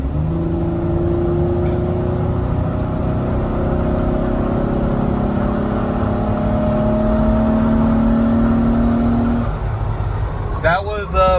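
A Jeep Wrangler with a 3.8 engine and performance mods accelerates at full throttle from about 40 mph, a loud, sustained engine drone with rising pitch heard from inside the cabin, ending in a brief clatter.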